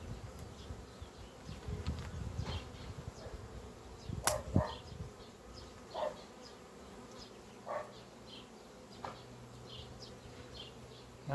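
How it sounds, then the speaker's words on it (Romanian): Soft, steady insect buzzing of a honeybee swarm, with occasional louder passes of individual bees flying close, and a few faint clicks. "Iată câtă albină avem noi pe roiul ăsta aici."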